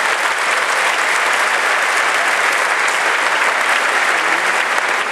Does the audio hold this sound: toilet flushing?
no